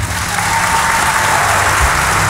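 Dense, even applause from a festival audience at a meeting with a Polish rock band, loud and sustained across the whole stretch with no pauses.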